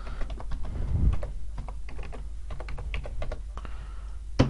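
Fast, steady typing on a computer keyboard as a search term is entered, a dense run of close clicks and key taps with a low background hum and no speech.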